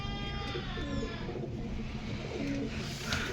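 Household pigeons coo softly in low, drawn-out calls close by, a pair of birds restless in their loft, heard over a steady background hum.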